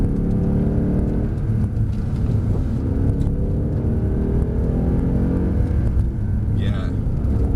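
A Mercedes-Benz C63 AMG Black Series driven hard on a track, its engine a steady loud rumble throughout with continuous people talking over it.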